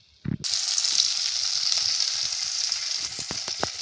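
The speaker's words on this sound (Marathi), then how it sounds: "आता हे शेंगाचं पाणी आणि मसाला एकत्र करून परतायला टाकायचं" Spice paste with drumstick cooking water hits hot oil in a pan with a sudden loud sizzle that settles into a steady hiss and crackle, with a few sharp pops near the end.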